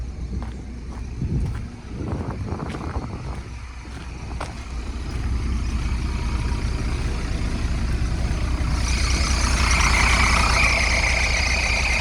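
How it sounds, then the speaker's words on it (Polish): Drive belts squeal on a running Solaris Urbino 12 II city bus engine, a high, steady whine over the low rumble of the idling diesel, growing louder near the end. "Coś tutaj paski piszczą ewidentnie."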